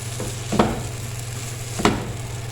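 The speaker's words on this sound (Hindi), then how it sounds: "अब इसके करेंगे पीसेस और इसमें मिक्स कर देंगे।" A cooked egg is cut into pieces and mixed into sizzling masala for tikki anda masala, two distinct spatula scrapes against the pan over a low, steady frying hiss.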